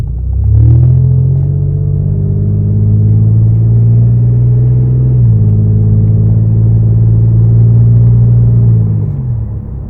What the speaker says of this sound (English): The first pull I'm going to do right now is just an easy pull, like on everyday driving, so you can hear it.